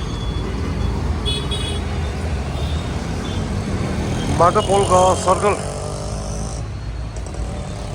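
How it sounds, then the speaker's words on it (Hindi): Busy city road near Indira Bhavan in Mysore, with a continuous traffic rumble and a cluster of several short horn toots in the middle while someone talks over the scene. "वाह देखो अभी ट्रैफिक है भाई."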